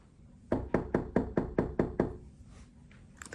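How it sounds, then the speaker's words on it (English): Eight sharp knocks on a door in an even, fairly quick rhythm, close and distinct over a quiet background, followed by faint rustling. "think that's the 4th time I've knocked on the door"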